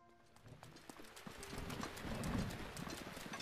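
Horse hooves clip-clopping at a steady gallop in the video game The Legend of Zelda: Breath of the Wild, a continuous rapid rhythm that grows slightly louder, with faint bird-like chirps and a rainy ambience behind it.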